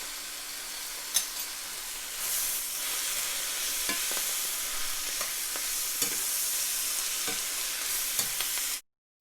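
Shrimp stir fry with mushrooms and bean sprouts, seasoned with sesame oil, black pepper and garlic powder, sizzles loudly and continuously in a hot pan, with occasional scraping taps as everything is kept moving.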